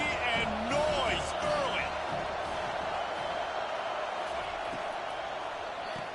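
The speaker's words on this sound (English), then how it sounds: "This crowd bringing the energy and noise" A football stadium crowd at a Hurricanes game keeps up a loud, continuous roar that swells early and then holds steady, with voices mixed into the din.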